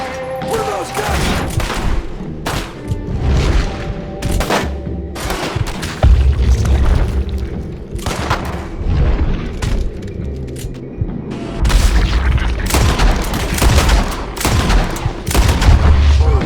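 Guns firing in Red Dead Redemption 2, with repeated loud shots, rapid bursts and booming blasts rattling off throughout, close and dense, with brief speech mixed in.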